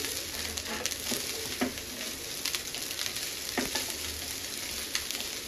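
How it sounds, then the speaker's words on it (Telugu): Rice stirred into egg fried rice in a hot pan sizzles steadily, with repeated scraping and clanking strokes of a spoon throughout and no voices. "రైస్ వేసిన తర్వాత ఒకసారి మిక్స్ చేసుకుందాం"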